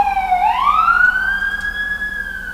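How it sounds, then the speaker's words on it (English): An emergency siren swoops upward and then holds a loud, steady wail outdoors, with faint background rumble beneath. "later that day, there are sirens happening outside"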